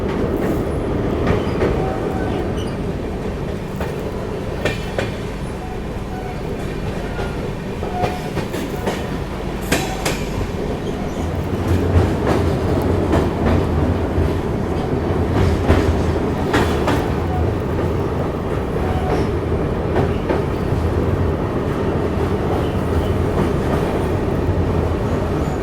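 Steady rolling rumble of the Ganga Sutlej Express on the move, with rhythmic wheel clatter over rail joints and a deeper drone building midway, heard from onboard, continuous and fairly loud.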